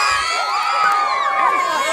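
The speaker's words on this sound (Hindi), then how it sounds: "देख सकते हैं दर्शकों में काफी उत्साह है, देख सकते हैं कितना भीड़ है" A dense crowd of spectators at a village cricket final between Bahadurpur and Bhilaipur roars, with overlapping shouts, whoops and high children's cries, loud and close throughout.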